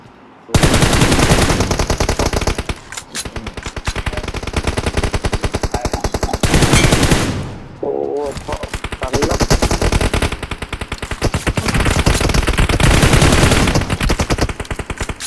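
Rapid bursts of automatic gunfire in PUBG Mobile crackle almost without pause, loud and dense, with brief lulls between volleys of machine-gun shooting.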